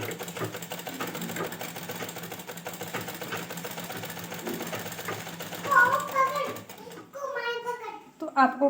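A sewing machine stitches a strip onto a ghaghra, its steady rapid whirr running for several seconds, then stopping while someone talks nearby and a voice chimes in.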